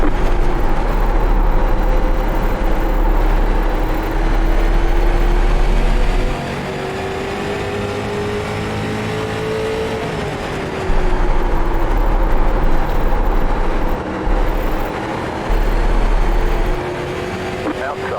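Street stock race car engines at Thompson Speedway in iRacing, a steady loud engine drone with pitch rising and falling through the laps as cars run close together, with a voice talking over it at times.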